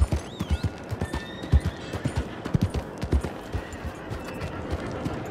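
A horse in the video game Red Dead Redemption II trots with a rhythmic clip-clop of hooves and lets out a whinny near the start, the steady hoofbeats carrying on alone against a quiet game backdrop.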